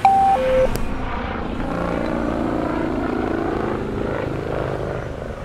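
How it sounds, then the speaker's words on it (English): A police helicopter hovers directly overhead in the video game GTA 5 with a UK police mod, its steady rotor and engine drone filling the scene continuously at moderate loudness, with a brief beep near the start. "the helicopter spotlight is directly above him"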